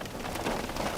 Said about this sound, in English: little bit of hail there mixing in with that when it hits the windshield